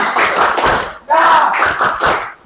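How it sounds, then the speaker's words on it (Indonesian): A classroom group performs the rhythmic 'tepuk mantap' clap routine, bursts of clustered claps in short patterned bunches with a brief pause midway, loud and close. "Sebelum ditutup, tepuk mantap."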